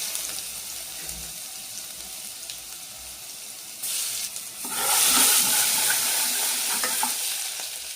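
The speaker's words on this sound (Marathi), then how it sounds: "टाकूया जिरा टाकूया। आता कढीपत्ते टाकूया।" Cumin seeds and curry leaves dropped into hot oil for sambhar, a steady sizzle that flares into a loud, bright crackle partway through and stays close and hissing.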